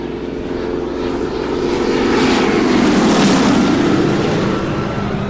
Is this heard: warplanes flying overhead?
yes